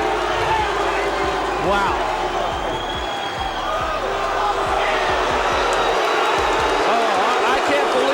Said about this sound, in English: Oh, I can't believe there's boos. I can't believe it. Some of these people, there's a lot of people clapping.